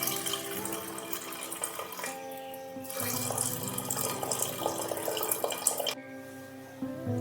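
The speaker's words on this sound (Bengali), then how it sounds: "সেদ্ধর জন্য জল দিয়ে দিলাম।" Water runs from a tap into a pot for boiling whole mung beans, a continuous splashing pour. It breaks off briefly twice and then resumes, fairly quiet and close.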